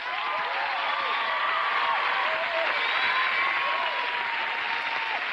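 A crowd applauds with a steady, sustained wash of clapping, as though recorded from a broadcast, while faint cheering and voices rise and fall underneath.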